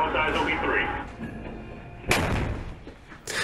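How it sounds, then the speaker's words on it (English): A Mark 46 30 mm naval gun system fires aboard the amphibious transport dock ship USS Green Bay, with heavy booming reports and a sharp blast later on over constant rumbling shipboard noise. "a Mark 46 gun system was tested aboard the amphibious transport dock ship USS Green Bay"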